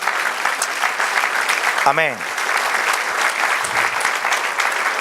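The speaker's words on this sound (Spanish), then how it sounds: "denle aplauso si quiere" Applause from a church congregation, steady dense clapping throughout, with a voice briefly calling out over it.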